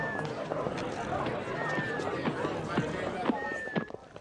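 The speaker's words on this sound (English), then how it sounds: "Sounds like there's a crowd around." Crowd noise from The Neverhood video game: a dense murmur of many voices and shuffling, running footsteps under a steady hubbub, fairly loud and continuous throughout.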